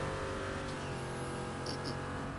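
A car engine drones steadily while boosting in the racing video game Burnout Paradise, a continuous revving hum with a couple of faint high chirps, no voices.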